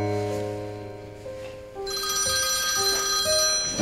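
A telephone rings with an incoming call in a home setting, a clear electronic ringtone with steady tonal pulses that grows louder and fuller partway through, heard alone without talk.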